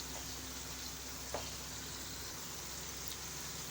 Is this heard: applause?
no